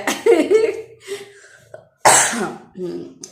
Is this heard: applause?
no